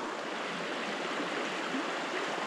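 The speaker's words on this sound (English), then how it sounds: "it just looks like a normal sized trout stream" A small, clear trout stream runs steadily, a close, continuous broadband rush of flowing water with no other sound.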